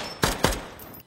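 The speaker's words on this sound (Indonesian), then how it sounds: "Sehingga baku tembak pun terjadi antara Yas dengan Surap." Gunfire in an action film shootout between a retired special forces fighter and a gang, heard as two sharp, loud shots about a quarter second apart with a brief ringing tail.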